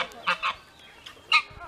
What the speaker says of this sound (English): Look at some geese.